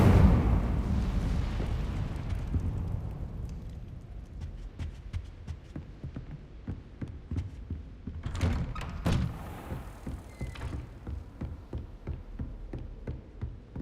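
Incendio fire spell cast in Hogwarts Legacy: a heavy whooshing thump opens, followed by a long run of crackling, ticking bursts, with a brighter flare of sparks partway through, moderately quiet overall.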